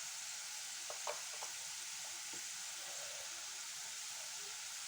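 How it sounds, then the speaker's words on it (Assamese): Steady, even sizzling of onions frying in a hot pan, with a few faint clinks of a utensil stirring early on. "পিঁয়াজখিনি অলপ ৰঙচুৱা হোৱালৈকে মই ভাজি ল'ম"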